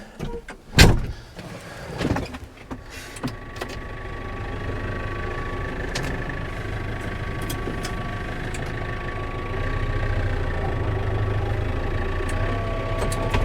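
A car engine running while driving: a couple of sharp knocks at the start, then a steady low rumble with a faint mechanical whir that grows slightly louder near the end.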